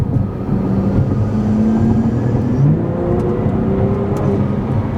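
A BMW fitted with an MST intake accelerates on the road, heard from inside the cabin as a continuous engine drone with rising tones as it builds boost, steady and fairly loud with no talk.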